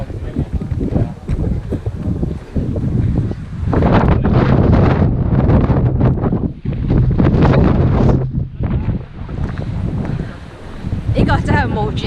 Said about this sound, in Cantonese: 因為係好大風，我驚被吹咗落去